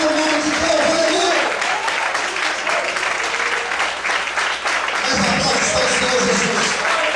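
A church congregation applauds in praise during a sermon, sustained dense clapping mixed with scattered voices and exclamations throughout.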